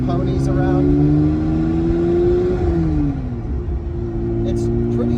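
A classic Mini fitted with a Honda engine rumbles and hums as it pulls away gently in first gear, its engine note rising smoothly then settling; close and steady, under someone talking.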